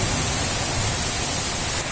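Heavy rain pours down in a dense, steady hiss, loud and close, unbroken for the whole short stretch.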